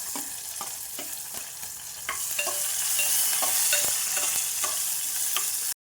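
Cumin, asafoetida, curry leaves, green and dried red chillies and onion frying in hot oil give a steady, close sizzle that swells louder partway through, with light utensil taps and stirring clicks over it, then stop abruptly.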